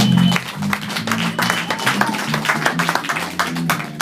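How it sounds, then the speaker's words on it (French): A church congregation in France claps in praise of the Lord, a dense burst of handclaps over sustained tones from instruments or singing, fairly loud and close throughout. "Applaudissons pour la gloire du Seigneur."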